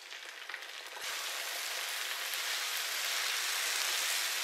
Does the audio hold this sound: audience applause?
no